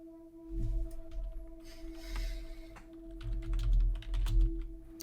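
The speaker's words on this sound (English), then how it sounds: "I was typing, so I just backspaced." Fingers tap a computer keyboard in soft, irregular clicks, quiet and close, over a steady electrical hum with no voices.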